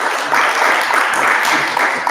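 Brief burst of applause from attendees at a full council meeting, a steady patter of many hands clapping at moderate volume for about two seconds.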